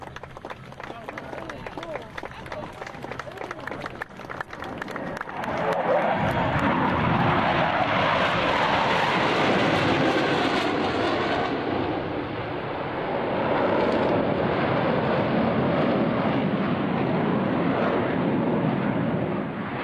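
US Navy Blue Angels jets fly at the 2003 Vectren Dayton Airshow. A loud, sustained roar swells in after a few seconds and fills the rest of the clip, with a narrator talking over the opening.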